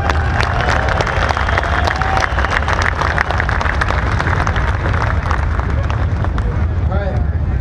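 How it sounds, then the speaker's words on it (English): Loud, dense, steady applause and cheering from a big outdoor crowd at a motorcycle club unification rally, with a low rumble and babble beneath it throughout. "I want everybody to give a round of applause for everybody that showed up"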